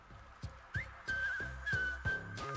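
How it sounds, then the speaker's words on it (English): Whistled melody in a Honkai Star Rail character trailer, a clear tune carried over rhythmic music with repeated low percussive hits. "Why are we whistling?"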